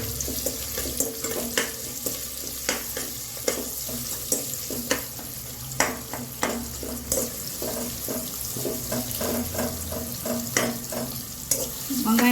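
Oil sizzles in a pan as ingredients for samba wheat rava khichadi are fried and stirred, a steady crackling hiss broken by the scrape and clink of a spoon against the pan.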